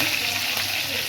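Fennel seeds hit hot oil in a pan for vegetable kootu, giving a steady, close hissing sizzle that fills the short moment with broadband crackle.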